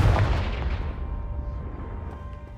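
A Confringo blasting spell cast in the Hogwarts Legacy video game, a single heavy booming blast that hits loud at once and then rolls away into a long fading rumble, with no voices.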